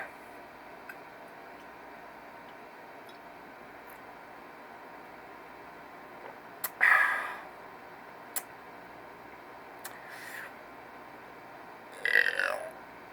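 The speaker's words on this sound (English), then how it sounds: "Oh my God, weak burps today." A few soft, low burps from a man, one around the middle and a short pair near the end, sitting just above a steady faint background hiss with no other sound.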